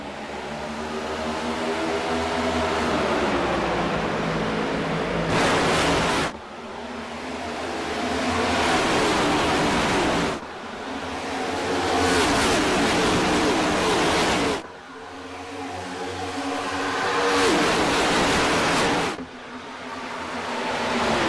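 NASCAR Cup stock cars racing at Charlotte: a loud, continuous engine roar swells and fades in repeated waves as the field passes, each pass lasting several seconds with brief dips between.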